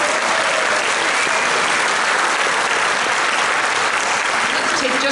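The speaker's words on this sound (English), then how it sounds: "Please give yourselves a round of applause for supporting live theater." Loud, dense applause from a live theater audience at a barbershop chorus show, steady and continuous throughout without a break.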